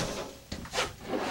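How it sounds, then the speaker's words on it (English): A big drawer in a 2019 Flagstaff Classic Super Lite 831CLBSS travel trailer slides and clunks, a brief close knock followed by a sliding rub, with no talking. "Plus look at that big drawer you've got here"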